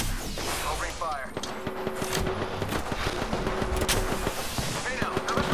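Rapid gunfire from a video game crackles in dense, overlapping bursts, with sustained automatic fire and scattered sharp shots running steadily at fairly loud level throughout.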